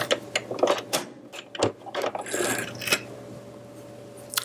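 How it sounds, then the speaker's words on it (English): A sewing machine stitches straight down a seam allowance in short mechanical bursts of clicking and whirring, fairly close and moderately loud with no talk. "Line up the outside of the foot with your seam and stitch down your seam allowance."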